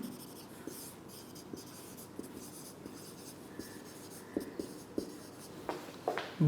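Marker or chalk writing on a board during a chemistry lecture, a run of faint scratchy strokes and small taps with a few sharper clicks near the end, with no talking over it.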